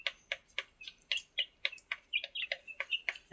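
Desi chicken chicks peep rapidly and repeatedly while eating, producing close, sharp, high chirps in a quick irregular rhythm with no voices.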